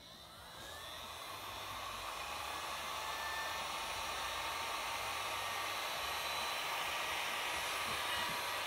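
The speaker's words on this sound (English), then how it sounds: "we can just use the hot air blower, not on too hot a setting" A hot air blower runs steadily on a moderate setting to dry leather dye on a sofa, a continuous close whooshing hiss that grows slightly louder as it goes, with no talking.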